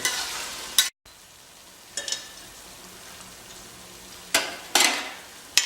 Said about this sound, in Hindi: आधे प्याज हमने इसमें डाल दिए हैं। इन्हें बढ़िया हम जो है ब्राउन कर लेंगे।